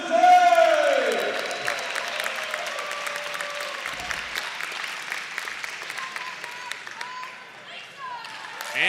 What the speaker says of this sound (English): Let's have a round of applause for all of our fighters today!